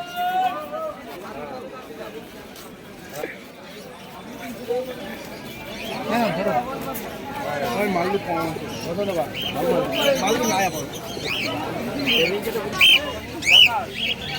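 Kaldom pigeons sit caged at a village market (haat) in Birnagar, amid scattered bird chirps and calls that grow busier and higher toward the end, under steady talk from people close by.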